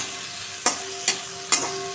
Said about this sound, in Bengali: তাই আমি ভাবলাম তারা একটু কুমড়ো দিয়ে ঢেঁড়স কটা ভেজে দিই